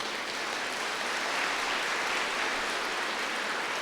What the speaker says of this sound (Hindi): हाँ जोर से ताली बजाओ